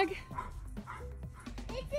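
A dog yips and barks in short bursts close by, mixed with people talking over it.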